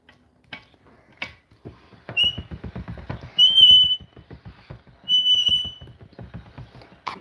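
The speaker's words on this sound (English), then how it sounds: "Apologies for that creepy noise, it's from this pasta machine." A hand-cranked pasta machine rolling polymer clay gives off intermittent squeaky, whistle-like creaks among soft mechanical clicking and rattling, close and moderately loud.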